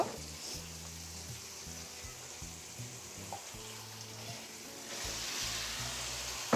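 Steady sizzling and frying of prawns cooked down in oil as pieces of ash gourd go into the pan, with continuous close hiss and occasional stirring scrapes, swelling slightly louder near the end.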